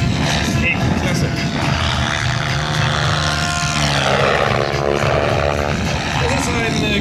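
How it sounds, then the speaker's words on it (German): A SAB Goblin 700 RC helicopter flies at an airshow, its steady whining rotor and motor drone loud and continuous, with a rising tonal sweep toward the end and voices talking underneath. "Das ist ein Goblin Hubschrauber, ein 700 von SAB."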